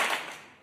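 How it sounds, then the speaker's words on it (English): A single sharp clap, close and bright, with a quick decaying tail and nothing else around it. "It's a round of applause for the reach around and a clap."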